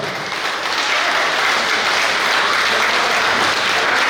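Warm applause for heroes and soldiers at a gathering in a hall, a dense, loud crowd clapping that holds steady throughout, no talk over it.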